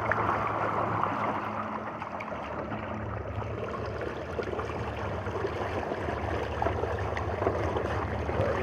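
A trolling motor on a small boat or kayak runs at speed five, churning water with a steady low hum and gurgling wash that continues unbroken and fairly close throughout.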